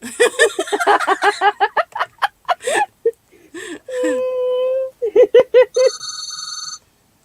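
A telephone rings with a steady electronic tone between short bursts of expressive voices, and a brighter ring chimes near the end.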